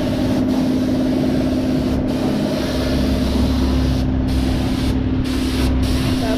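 Spray paint hissing onto truck trailer tires, a loud, continuous, close spray with a steady engine-like hum beneath it and a few brief breaks in the hiss.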